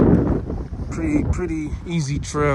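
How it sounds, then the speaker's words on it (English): Strong wind buffets the microphone on a beach trail, a low rumbling roar under someone speaking close by. "Very windy today, as you guys can hear the wind."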